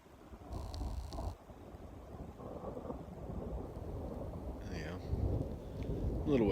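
Distant thunder rolls and rumbles during a lightning storm on the High Sierra Trail, a long low growl swelling and fading over soft rain, with faint sounds overlaid.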